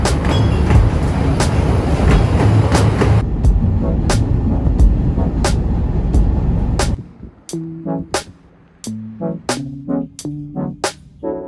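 A passenger train runs on rails with a loud, continuous rumble and rhythmic clicking for several seconds, then the noise drops away to a quieter interior where sharp clacks and knocks sound at intervals.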